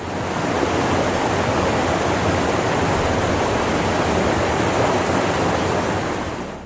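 Turbulent Yangtze River water rushing at the Three Gorges Dam, a loud, steady broadband roar of churning water that holds constant throughout with no voices.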